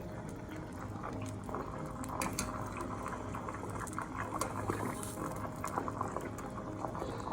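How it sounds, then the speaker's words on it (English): Butter simmers gently in a pot while ghee is made, giving a soft, continuous bubbling and crackling with small pops as the water is skimmed off the surface. "Just skimming some of that water out."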